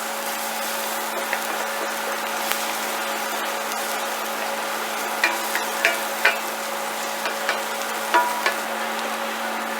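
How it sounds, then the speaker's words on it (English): Garlic sizzles in hot oil in a pan, a soft steady frying hiss under a constant hum, with a few sharp stirring scrapes and clinks bunched toward the end. "stir the garlic around, get that incorporated with the oil"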